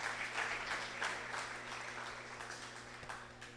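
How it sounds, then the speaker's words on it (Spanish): A church congregation claps at the end of a sermon, a fairly quiet wash of steady applause that slowly fades. "Que me aplaudieron."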